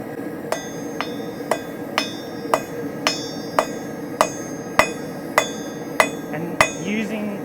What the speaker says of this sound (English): So, hitting down on that V shape.